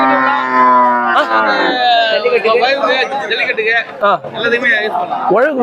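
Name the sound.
cattle mooing at bull market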